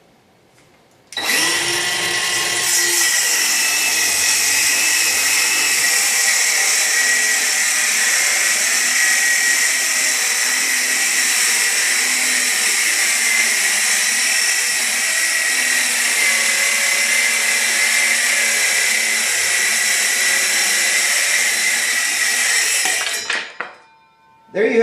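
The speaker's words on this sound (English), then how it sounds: "I cut it from this side so I don't run into the clamp. Alright, here we go." A Milwaukee M12 FUEL 5-3/8" cordless circular saw cuts through two stacked sheets of 3/4-inch plywood with a loud, steady high-pitched whine for about twenty-two seconds, then spins down abruptly at the end.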